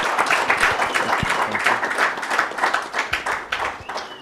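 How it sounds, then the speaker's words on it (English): An audience at a sports literature festival claps warmly for a famous wrestler. The applause is a dense, continuous patter of many hands that holds steady throughout. "Please, first of all, give him a very warm applause."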